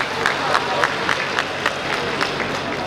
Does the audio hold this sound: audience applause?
yes